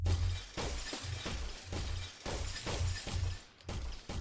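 Repeated glass shattering effects from an Unreal Engine asset pack, several loud, close crashes and smashes in quick succession with sharp bright bursts and tinkling debris, no voices.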